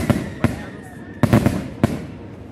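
Rocket fireworks bursting at a town carnival in Zapotitlán Tablas, Guerrero: several sharp, loud bangs in an irregular sequence, two closely spaced, over crowd murmur and a faint whistle.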